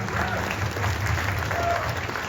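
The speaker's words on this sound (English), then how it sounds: "definitely applaud her" Audience applause fills a film Q&A for a Taipei-set movie, a dense steady clapping from a crowd heard throughout at an even level.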